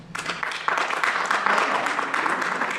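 Audience members at a League of Women Voters candidate forum for probate judge clap together, starting sparsely and swelling into sustained, moderately loud applause that fills the room.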